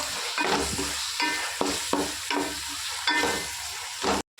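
Tomatoes, mint and coriander frying in a pan for chicken pulao, loud close sizzling broken by repeated scraping stirs of a spoon, ending abruptly.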